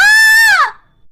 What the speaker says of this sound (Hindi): अनु की चीख सुनकर सभी उसके कमरे में भागे चले आते हैं